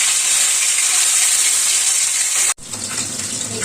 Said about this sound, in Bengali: ভাজা হয়ে গেল, এবার এদিকটা একটু ভেজে নেব।